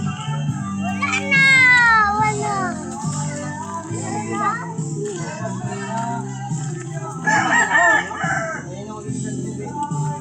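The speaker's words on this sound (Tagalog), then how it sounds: "Yan daw yung manok nila." A rooster crows loudly near the start, with a second shorter crow later, while people talk throughout in the background.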